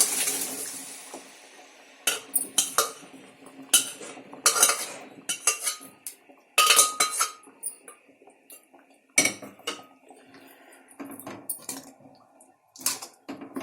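Boiled chickpeas for chole being tipped into masala in a pan and stirred, with repeated close clinks and scrapes of a spoon against metal coming in irregular bursts, no talking.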